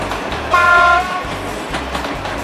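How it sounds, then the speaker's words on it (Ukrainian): A Chernivtsi-Lviv passenger train rolls past a village level crossing in Mamaivtsi, its horn sounding briefly over a loud, steady rumble and clatter of wheels on track, close by with no talk. "Це, здається, потяг Чернівці-Львів, якщо я не помиляюся."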